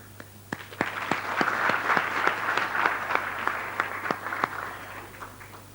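A graduation audience at a polytechnic university ceremony applauds, with distinct close hand claps over a swelling crowd wash that builds, holds, and tapers off, a low hum beneath.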